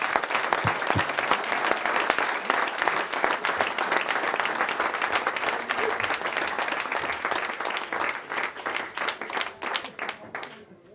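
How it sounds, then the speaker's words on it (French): A crowd at a French-speaking event for children breaks into loud, dense applause that roars steadily for several seconds, then thins into sparser individual claps as it tapers off near the end. "je pense qu'on peut tous t'applaudir très fort"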